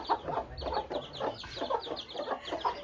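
Chickens cluck in a quick, continuous stream of soft repeated calls, close by, mixed with higher chirps from chicks.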